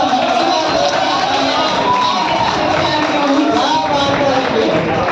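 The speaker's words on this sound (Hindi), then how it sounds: "चाचा ने भी बजाई ताली" Audience clapping at a Hindi poetry recital by a poet in Delhi, a loud, dense and continuous wash of applause from a close crowd, with voices mixed into it.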